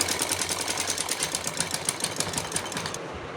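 A sewing machine stitches a fabric strip with foam buckram sewn inside, for a small dress, producing a fast steady mechanical rattle of needle strokes up close that stops abruptly near the end.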